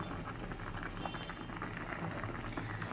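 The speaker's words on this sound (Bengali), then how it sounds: "ভাতটা ফুটে উঠেছে" Rice boils in a pot on the stove, a soft continuous bubbling and popping patter, fairly faint and steady throughout with no talking.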